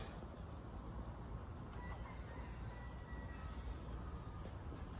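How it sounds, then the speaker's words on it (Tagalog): Birds calling outdoors in Bermuda, with a rooster-like crow and clucking fowl over a steady, noisy outdoor background; the calls are fairly faint and intermittent, with no talking. "Ayan, mga ibon."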